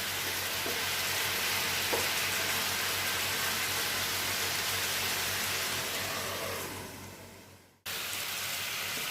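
Chicken karahi with tomato sizzles steadily in a pan as it is stirred, with a loud continuous hiss, occasional soft utensil scrapes, and a sudden brief dropout near the end before the frying resumes.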